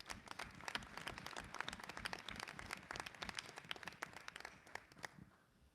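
A round of applause rings out at a school district legislative meeting as a football team is honoured, with dense, steady clapping from a moderately sized audience that fades near the end.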